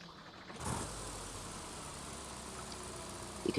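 A simulated BMW M42 16-valve four-cylinder from a US-spec 318i, recreated in a video game sound mod, holds a steady raspy idle at close range with no voices over it.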